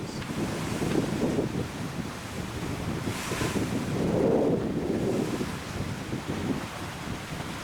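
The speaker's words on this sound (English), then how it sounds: "Don't you love the wind blowing through my hair?" Steady wind roars and buffets the microphone beside a lake, with a faint rush of waves underneath; no one speaks.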